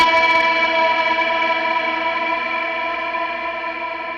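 Electric guitar played through a Meris Mercury X reverb pedal with its compressor engaged, one sustained chord ringing out evenly with dense harmonic shimmer and slow, steady decay, heard alone.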